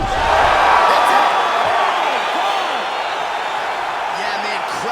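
An arena crowd in the UFC 2 video game roaring at a fight finish in a flyweight championship bout: loud, sustained cheering and whooping that stays steady throughout, with talk running over it.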